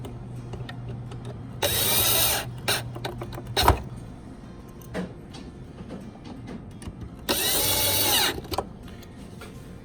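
Two screws being driven back into a DCC solenoid with a power screwdriver, two short whirring bursts a few seconds apart, with small clicks and handling knocks between them.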